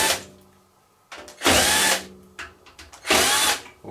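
A power screwdriver whirs in short close bursts, two main loud runs with brief ratcheting spurts between them, backing out the cover screws of a Yamaha R-N803D receiver on a repair bench.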